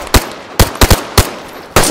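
Loud gunshots ring out in the video game DayZ: five sharp, close cracks in an irregular burst, with a quick double shot in the middle and no talking.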